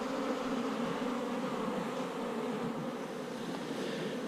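Two kinds of bees in a hive box give off a steady, dense buzzing hum, close and even throughout, with no voices.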